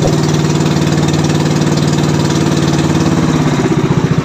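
A loud engine chugs close by with a rough, pulsing rhythm, its beat growing noticeably uneven and lumpy toward the end.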